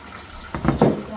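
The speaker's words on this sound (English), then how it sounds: "we're gonna go ahead and rinse out this bowl." Tap water runs and splashes in quick bursts against a bowl in a sink, close up, for about a second.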